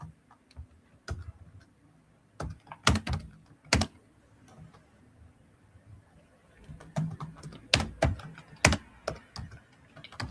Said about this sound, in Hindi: अपने कीबोर्ड का बैक स्पेस प्रेस करेंगे